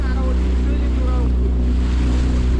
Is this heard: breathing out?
no